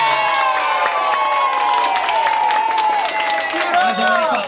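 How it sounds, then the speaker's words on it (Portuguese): Audience applauding and cheering for a contestant, sustained clapping under loud whoops, shouts and excited voices, a lively crowd near and busy throughout. "As palmas pra Kelly"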